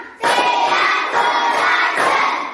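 A class of pupils clapping together during a classroom clapping chant, a dense, loud, continuous wash of hands that starts abruptly and holds steady throughout.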